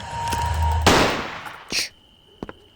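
A sharp burst of synthetic gunfire with a noisy tail, followed by a couple of quieter pops and faint clicks, game-like and close.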